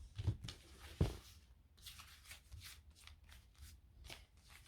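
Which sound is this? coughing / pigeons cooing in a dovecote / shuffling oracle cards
shuffling oracle cards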